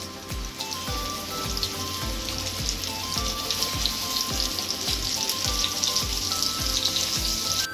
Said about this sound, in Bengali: তো এবার আমি এগুলিকে লালচে বাদামি করে মিডিয়াম আঁচে ভেজে নেব।